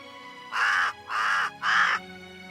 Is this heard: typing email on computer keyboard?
no